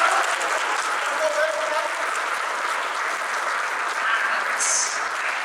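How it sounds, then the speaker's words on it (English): A convention fan-panel audience breaks into sustained applause, a dense and even wash of clapping that holds steady throughout, with faint voices mixed in. "So a round of applause for the first part of this panel."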